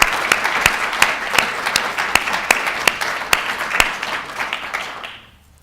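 Warm round of applause from a conference audience, dense steady clapping with a few sharp individual claps standing out, fading quickly to silence near the end.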